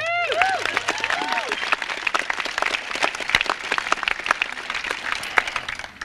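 Applause from an audience honoring a high school teacher at a celebration, dense clapping throughout with voices and whoops mixed in, steady and fairly loud.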